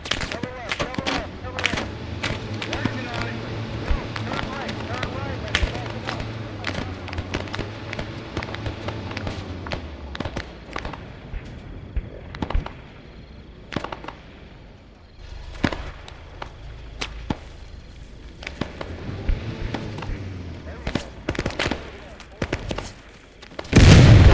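Rapid, loud bursts of gunfire crackle through a Vietnam War video game mission, volleys and single shots overlapping continuously with a brief lull midway, while voices call out over the shooting.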